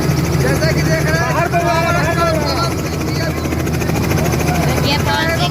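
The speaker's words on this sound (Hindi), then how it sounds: "देखिए पवन सिंह गिरी हेलीकॉप्टर से उड़ रहे हैं।" A helicopter flies overhead at an outdoor gathering in Jokahari, Ara, giving a loud, steady rotor and engine roar that stays dense and continuous throughout, with crowd noise and scattered voices mixed underneath.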